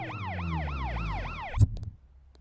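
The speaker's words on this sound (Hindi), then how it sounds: "एम्बुलेंस।" Ambulance siren wailing in a steady repeating sweep, loud and close over a low engine rumble, cut off abruptly by a thump before fading.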